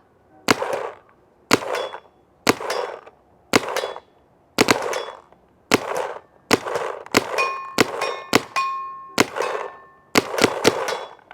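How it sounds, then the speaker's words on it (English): Sharp paintball marker shots fired through a Carbon CRBN Nano carbon-fibre barrel, about fifteen evenly spaced pops with a slightly dull, thuddy crack, close and alone, quickening toward the end. "the carbon barrel has a little bit more of a thud, like a dead sound, a little bit quieter than the Planet Eclipse barrel"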